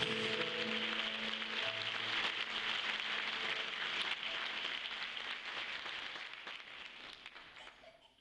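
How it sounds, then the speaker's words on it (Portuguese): A church congregation at a Sunday service in Sapiranga claps loudly for the King of Kings, a dense and steady wash of applause with faint singing tones early on, then slowly thinning and fading toward the end. "Aplauda forte ao Rei dos Reis, Senhor dos Senhores"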